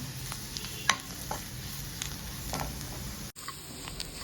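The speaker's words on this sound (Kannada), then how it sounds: "ಇದನ್ನು ಸ್ವಲ್ಪ ಈರುಳ್ಳಿ ಜೊತೆಗೆ ಚೆನ್ನಾಗಿ ಬಾಡಿಸ್ಕೊಳ್ಳೋಣ" Onion with sambar powder sautés in a pan, giving a soft sizzle under occasional scraping and stirring clicks from a spoon, close and fairly quiet, with a brief dropout near the end.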